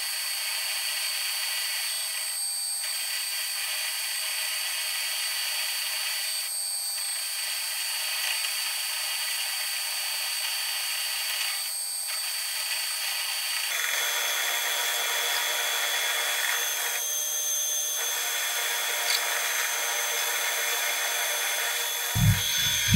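Metal lathe turning a steering part from a VW Bus T2 Westfalia down toward finishing diameter, a steady continuous cutting hiss and motor whine with a brief change partway through and a couple of light knocks at the end.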